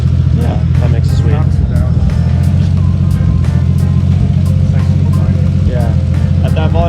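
A Datsun 240Z with an RB engine and an exhaust running a resonator and muffler idles in a steady, low, throaty drone, with people talking over it.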